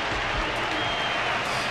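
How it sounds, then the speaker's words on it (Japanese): Steady, dense crowd applause for a boxer in the video game Honkai: Star Rail fills the whole stretch, loud and continuous without pause, with a faint murmur of voices mixed in. "観客は絶え間ない拍手をこの屈強なベロブルグのボクサーに捧げている。"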